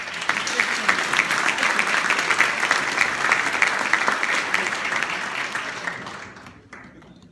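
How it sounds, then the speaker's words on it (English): Audience applause fills a hall with sustained, dense clapping from many people, steady and loud for about six seconds before quickly tapering off into near silence. "Let's just give everyone a round of applause."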